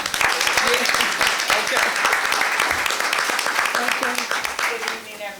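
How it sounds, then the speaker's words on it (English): Audience applause at a council meeting, a steady broadband wash of clapping lasting several seconds with a few short spoken words over it. "You all give her some applause"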